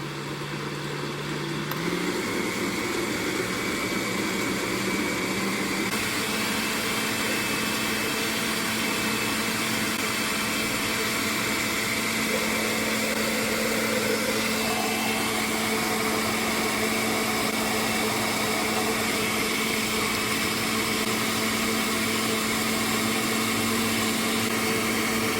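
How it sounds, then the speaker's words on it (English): A blender runs on high speed, blending a fruit smoothie with leftover powder, making a loud steady whir that holds throughout with slight pitch shifts, alone with no talk. "I see there's a little bit of powder left over, so I'm just going to reblend it."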